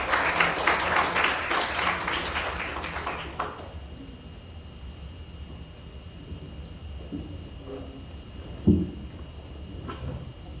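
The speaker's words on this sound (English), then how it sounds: "Let us all give him a warm round of applause" An audience at a diplomatic forum on the BBNJ Agreement and the South China Sea gives a dense round of applause that fades out after a few seconds, leaving a quiet room hum.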